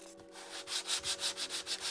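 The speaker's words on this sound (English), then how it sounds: "Notice I'm sanding in a crosshatch pattern." Hand sanding of a cracked vinyl car dashboard with a sanding block, worked in a crosshatch pattern, giving steady rhythmic rasping strokes, close and clear with no talking.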